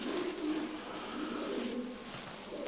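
Soft, low pigeon cooing repeats in short rolling phrases over a steady murmur of background noise, fairly close.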